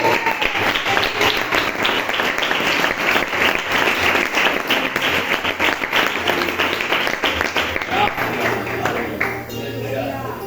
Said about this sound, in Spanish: dale este aplauso fuerte para Él